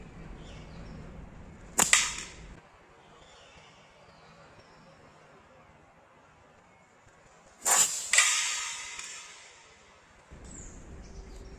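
A slingshot fires twice at a target about six seconds apart, each shot landing as a sharp, bright crack with a short rattling tail. Faint background hiss fills the quiet gap between the two shots.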